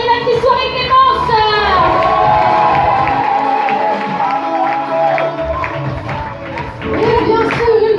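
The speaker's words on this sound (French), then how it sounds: "on peut l'applaudir très fort" An audience at an evening holiday club show at Cap Esterel cheers, whoops and claps loudly, with excited shouts rising and falling while a presenter's voice carries over the noise.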